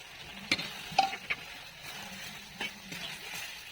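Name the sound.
potatoes frying in spices in a pan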